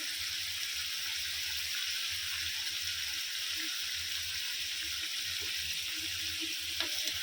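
Masala chicken fries in a pan with a steady, close sizzle and hiss that carries on throughout, with a few soft clinks near the end.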